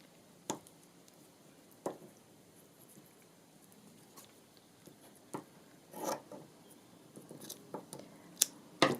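Scissors cut through a piece of fabric with scattered, quiet snips and rustles that come at an irregular pace. A few sharper clips land near the end, and no voice is heard.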